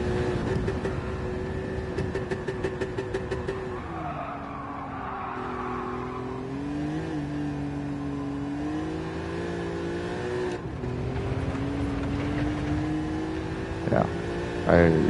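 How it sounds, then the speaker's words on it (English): A car engine hums and revs in the video game Gran Turismo 7 as the car drifts on low-grip tires. The engine tone rises and falls steadily, with a brief tire-squeal burst near the end and a voice talking over it. "And there goes the car."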